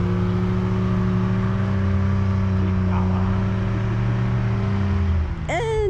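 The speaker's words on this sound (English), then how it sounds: "Spinning the tires in front of me and going back like quarter inch." A Toyota Tundra truck stuck in deep snow holds a steady, droning engine whir as its tires spin in place, with a rising whine near the end.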